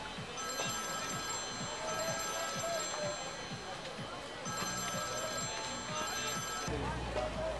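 Telephone ringing in a domestic drama scene: two sustained bursts of an electronic trilling ring separated by a short pause, loud and close, with talk over it.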